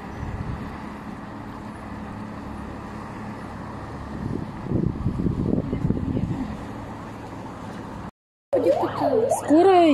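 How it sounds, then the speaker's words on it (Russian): An ambulance siren wails up and down close by near the end, after a stretch of street noise and people talking at an apartment block fire in Abakan, Khakassia. "Скорая едет"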